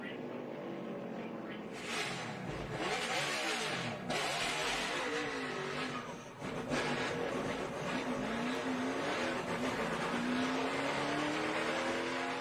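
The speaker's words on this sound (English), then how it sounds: "The 18 crosses the start-finish line, and Harvick is going to be out of the playoffs." NASCAR stock cars roar past at the finish of a playoff race, a loud continuous blend of engines revving and shifting with a rising pitch toward the end, heard alongside crowd and broadcast noise.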